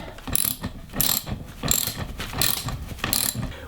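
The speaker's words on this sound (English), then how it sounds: "It always helps to have your socket set turned to the right way." A socket wrench ratchets in about five quick bursts of clicking, close and loud in a workshop setting, with short pauses between turns and no speech.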